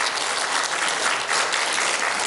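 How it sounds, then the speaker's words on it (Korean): An audience at a church service applauds, a dense, even wash of clapping from many hands filling the room, loud and sustained with no talking over it. "박수 한번 쳐보시지 않겠어요?"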